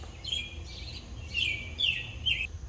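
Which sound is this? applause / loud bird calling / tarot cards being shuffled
loud bird calling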